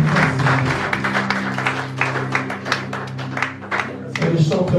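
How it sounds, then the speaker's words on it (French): A church congregation claps and cheers during a worship service, a steady patter of applause running several seconds beneath a sustained musical drone and some voices. "acclame pour le Saint-Esprit."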